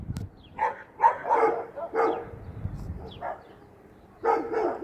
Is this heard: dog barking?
yes